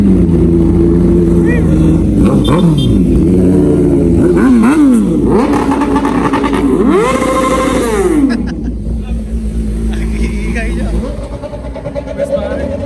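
A large motorcycle engine revs hard and loud up close, its pitch climbing and falling through several throttle bursts before settling into a rough idle.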